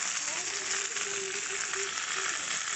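Okra sizzles in hot mustard oil in a wok with a constant, close crackle that holds the same level from start to finish.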